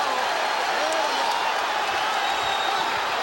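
A boxing crowd of about 20,000 at a Shane Mosley fight roars on its feet, a dense, steady wall of cheering and shouting that holds throughout the whole stretch.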